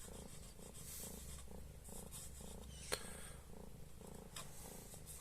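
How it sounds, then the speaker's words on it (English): A house cat purrs steadily and close by, its low rhythmic rumble cycling in even breaths for several seconds, with one soft bump partway through and no voices. "As you can hear, I have my cat company."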